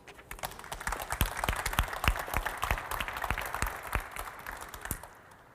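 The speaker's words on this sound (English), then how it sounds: "If I may ask you again for an applause for you all." An audience applauds at a conference's closing event, a dense run of many hands clapping that swells and then fades away over several seconds.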